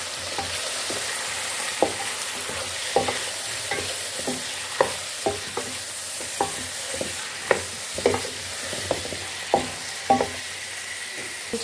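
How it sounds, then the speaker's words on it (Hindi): Chicken pieces are stirred through browned onions in a hot pan, a steady close sizzle and frying crackle punctuated by regular scraping clicks of the spoon against the metal, with no voices. "प्याज ब्राउन हो गया, अब इसमें हम चिकन डालेंगे। और इसको हम अच्छे से मिला लेंगे।"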